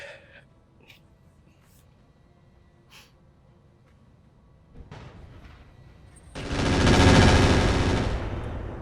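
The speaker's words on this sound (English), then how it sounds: "Shooting at the Battlemaster." Weapons fire on a Battlemaster mech in the RogueTech video game: scattered sharp shots early, then a loud sustained roaring burst of fire that swells and lingers, close and dominant.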